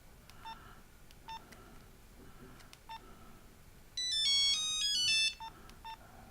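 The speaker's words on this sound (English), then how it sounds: "Let us compare the ringtones." A Nokia 8110 mobile phone plays a short ringtone preview: a bright, rapid run of electronic melody notes lasting about a second, after several separate isolated key beeps, all close and clear without talk.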